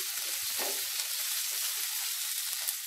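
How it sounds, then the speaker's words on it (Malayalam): Soft, steady sizzle of capsicum and roughly chopped onion frying in a pan, with faint stirring clicks underneath. "ഇതിലേക്ക് നമ്മൾ എടുത്ത് വെച്ച ക്യാപ്സിക്കം വലുതായി അരിഞ്ഞ ഉള്ളിയും ഇട്ട് കൊടുക്കാം."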